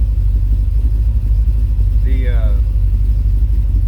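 A 1985 Dodge D150 engine running steadily after its first startup, with an untuned carburetor and unadvanced timing, a close, even idle rumble throughout with a brief squeal partway through.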